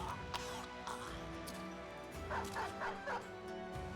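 A dog barks and yips in the video game Battle Brothers, several short sharp barks and whimpers over a busy game soundscape, moderately loud, with a few clustered yelps toward the end.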